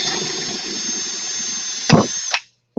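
A power drill runs steadily, boring holes in pipe for an aquaponics T-siphon. A loud, continuous whine holds for about two seconds, then cuts off with a couple of short knocks and a brief clunk at the end.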